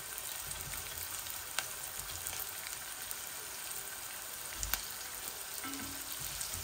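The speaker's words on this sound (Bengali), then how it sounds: "কড়াইয়ের মাঝে ডিমগুলা বুনি লাইমু" Eggs frying with turmeric in a karahi, a steady soft sizzle running throughout with a couple of brief clinks, no voices.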